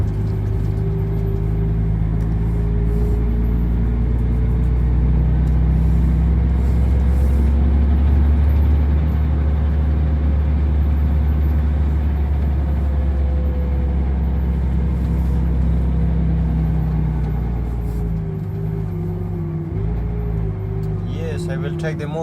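A truck drives from Farsta toward Jordbro in Stockholm, Sweden, with a steady low engine drone and rumble from the cab throughout while someone talks.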